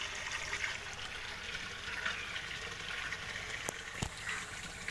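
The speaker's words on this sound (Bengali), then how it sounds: "ওই দেখো মোটরের পাইপটা জল ভরছে" Water from a motor pump pipe pours steadily into a container on a rooftop, a continuous broad rushing gush with two brief sharp knocks near the end and no talk.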